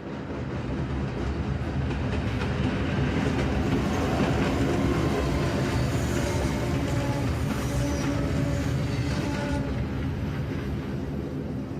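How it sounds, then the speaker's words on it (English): A train ride in a video game cutscene, with a loud continuous clickety-clack of wheels on rails and a steady rolling rumble of the cars, unbroken for about twelve seconds and free of talk. "Ooh, cutscene. We're on a train this time."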